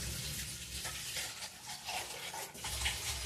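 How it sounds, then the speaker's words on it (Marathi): Rice washed by hand in water, a continuous close sloshing and swishing with irregular splashes and rubbing, moderately loud, no voices. "तो तांदूळ धुवून घेते"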